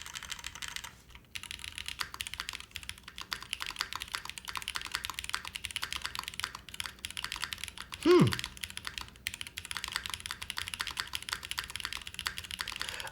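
Fast, continuous typing on a spring-mounted keyboard with no click switches, a dense run of light keystrokes and a single heavier thump partway through.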